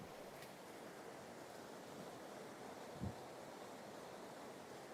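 A steady, broad roar of rushing waterfall water near Gangotri continues without a break, with one faint thump partway through.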